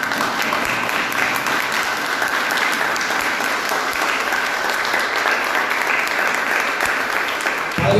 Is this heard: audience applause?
yes